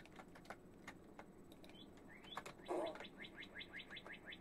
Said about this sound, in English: Ooh, a bird.